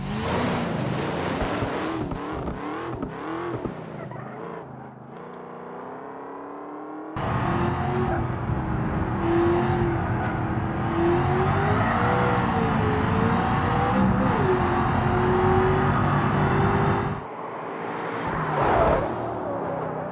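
A race car engine revs hard in a racing video game, rising and falling through gear changes with rough throttle bursts, loud and continuous with a brief drop near the middle and a quieter tail at the end.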